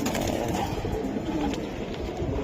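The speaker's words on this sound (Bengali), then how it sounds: "এটা সিলভার কবুতর।" Silver pigeons coo steadily amid cluttered background noise, their low murmuring calls continuous through the whole stretch.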